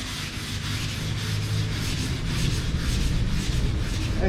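Primer is sanded by hand in a continuous, close-up rasping rub with a faint rhythmic back-and-forth pulse, steady and moderately loud with no talk.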